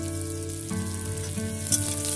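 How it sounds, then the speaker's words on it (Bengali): Onions frying in a pan for a duck meat curry give a steady, close sizzle that runs unbroken throughout with no talking. "পেঁয়াজটা কিন্তু আমি নিচ্ছি হালকা ভেজে নিয়ে"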